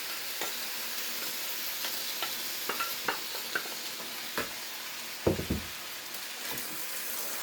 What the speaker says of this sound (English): we're going to add the sauce. And stir fry that all together.